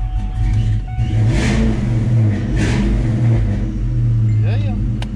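A Mustang engine revs up while building turbo boost, with loud rising engine rumble, whooshing vortex noise swells and a brief whistle near the end, heard alongside voices talking.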